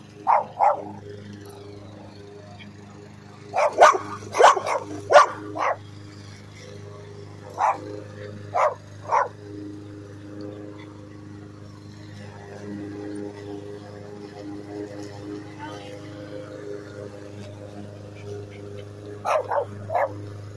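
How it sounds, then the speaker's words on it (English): Several dogs bark in short bursts, some clustered and some spaced apart, loud and close over a low steady hum, with a faint voice now and then. "I see a lot of dogs."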